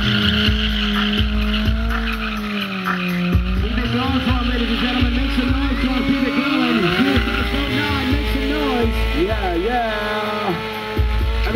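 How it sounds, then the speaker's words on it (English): Motorcycles doing burnouts at a tandem stunt show, with revving engines and squealing tires sustained throughout over a crowd and an announcer talking on a loudspeaker. "Showing us some acrobatics with their burnouts right there."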